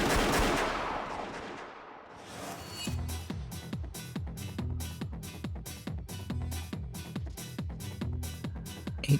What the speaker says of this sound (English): There was a fierce exchange of gunfire across the elevator hall on the 14th floor of the Belton Plaza Hotel, the suite floor.